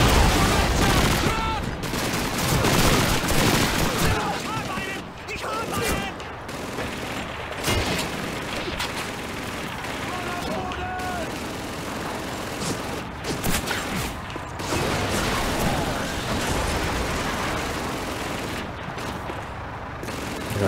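Gunfire in Call of Duty 2 during the Winter War Soviet campaign: dense, continuous bursts of rifle and machine-gun shots with booms, at times under someone talking.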